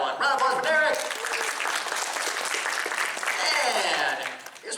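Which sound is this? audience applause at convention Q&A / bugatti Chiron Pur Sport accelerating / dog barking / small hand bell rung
audience applause at convention Q&A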